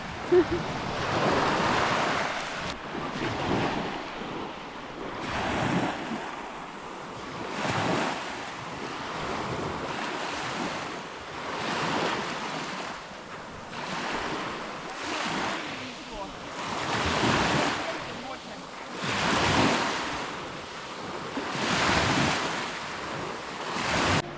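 Sea waves roll in and break on the shore in Pelion, Greece, in the early morning, in steady repeated surges, with wind rushing across the microphone throughout.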